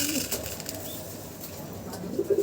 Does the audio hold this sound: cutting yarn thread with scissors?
no